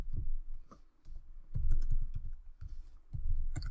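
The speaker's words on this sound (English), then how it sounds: "we're going to just type New York Life" Bursts of typing on a computer keyboard, quick clustered key clicks in three runs with short pauses between, close and clear with no talking.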